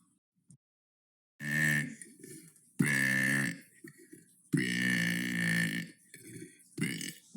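Three drawn-out, resonant belches from one person, loud and close, separated by brief throaty grunts and gulps, with silence before the first.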